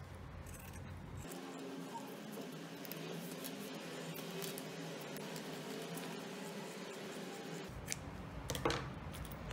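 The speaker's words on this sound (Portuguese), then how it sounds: "E cortando também aquela ponta do zíper que sobrou aqui" Scissors snip off the leftover end of a zipper on a homemade sewn cover for a World Cup sticker album, giving a few soft close cuts and handling noises over a steady background hum with no speech.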